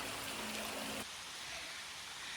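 A mountain stream runs steadily beside a backpacking trail in South Carolina while a bottle is filled, a constant hissing wash of water with a fuller filling tone that stops partway through.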